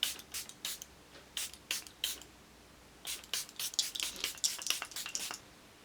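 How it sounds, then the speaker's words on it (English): Charlotte Tilbury Airbrush Flawless setting spray misted from its pump bottle in a rapid series of short, hissing spritzes, close and soft, with a brief pause midway and no speech. "This setting spray, the Charlotte Tilbury one, the Airbrush Flawless Setting Spray."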